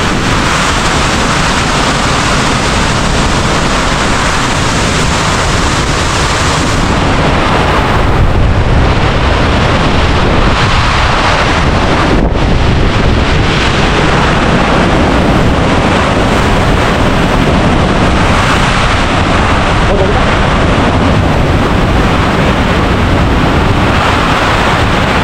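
Typhoon Uwan's wind lashes outdoors in a loud, unbroken roar of buffeting gusts, with a brief sharp knock partway through and no voices.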